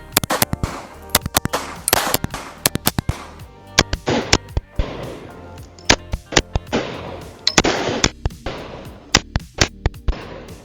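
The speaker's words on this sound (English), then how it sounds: "Let's just shoot some doubles, see the recoil coming off of the gun." A Staccato P pistol with a steel grip fires at an outdoor range, giving a long run of sharp, loud cracks, many in quick pairs, spread through the clip with brief gaps and no talk.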